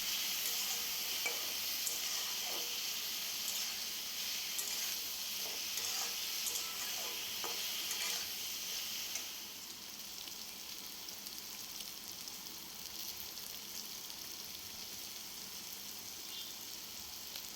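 Chopped ridge gourd frying in a pan, a steady broadband sizzle with a few light stirring scrapes and clinks, fairly quiet and even, easing slightly softer partway through; no voices.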